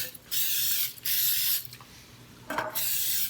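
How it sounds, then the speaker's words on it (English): Aerosol vegetable cooking spray hisses onto a baking tray in three short bursts with brief gaps between them, close to the listener. "I'm gonna just give it a spray. And this is cooking spray, vegetable."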